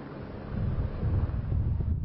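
Strong wind gusts buffet the microphone during a forest fire on the coast near Cala Tuent, a heavy low rumbling roar that swells after a quieter start and stays loud.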